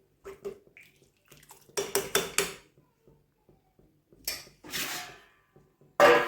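A metal pot of dal dhokli being covered with a lid: a few close clanks and scrapes of metal on metal, separated by quiet gaps and ending in a sharp clatter.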